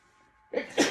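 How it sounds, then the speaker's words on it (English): A single close sneeze, a sharp intake followed by a loud burst, after a moment of near silence. "Excuse me for my sneezes."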